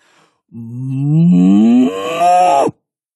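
A single cow gives one long, close moo that rises in pitch and then cuts off sharply, alone against silence.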